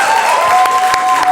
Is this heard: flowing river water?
no